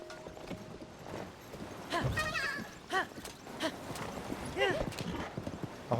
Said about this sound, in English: The horse doesn't take off as fast as it used to.